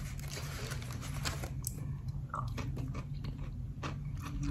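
Close biting and chewing of jar-style pickles served with a fried chicken meal from a chicken restaurant, a steady run of moist crunches and mouth sounds with no talking.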